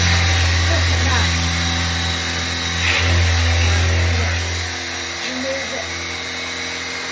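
A cheap cordless pressure washer sprays to remove limescale, making a loud, steady motor whine and hiss that runs throughout. Someone talks over it.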